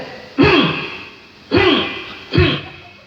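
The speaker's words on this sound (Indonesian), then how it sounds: "dehemnya bukan dehem tenggorokan, bukan dehem dada, tapi dehem perut" A man gives three deep, forceful throat-clearing grunts pushed from the belly, each a short gruff burst, spaced about a second apart with no speech between them.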